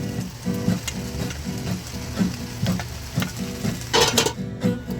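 Pasta, broccoli, fresh tomatoes and tomato sauce stirred in a hot pan, a steady sizzle with repeated scraping strokes of a utensil against the pan, close and continuous.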